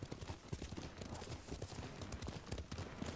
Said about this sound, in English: Look at you and your crippled horse.